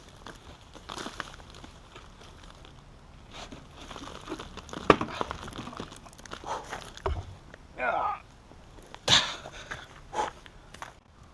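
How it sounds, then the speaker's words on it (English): A plastic pot is worked off the root ball of an upside-down carambola tree grown from seed, giving intermittent crinkling, rustling and scraping with a few sharper snaps, close and fairly faint. "turn the tree upside down in the air and pull the pot away from the tree."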